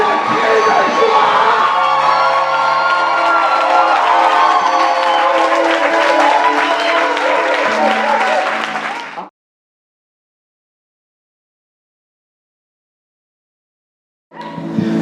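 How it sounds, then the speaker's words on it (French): A church congregation in Cameroon cheers and applauds for Jesus, with loud crowd shouts, whoops and clapping that stop abruptly and are followed by silence before a brief return at the end. "Maintenant acclame pour Jésus. Tout ça de cri de joie."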